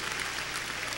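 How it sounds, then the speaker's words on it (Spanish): A church congregation applauds, a dense wash of clapping heard from a distance at low level, steady throughout the short moment with no voices on top. "Dele fortísimo ese aplauso a Jesús en esta tarde."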